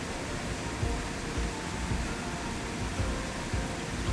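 Rushing water at Varasgoan waterfall in Maharashtra, a steady broadband roar that fills the whole span with no break, heard on the approach along a short trek.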